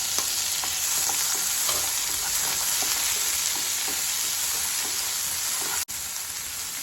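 Tomato frying with browned onion in a pan, a steady close sizzle with occasional stirring scrapes and crackles running throughout, briefly dipping near the end.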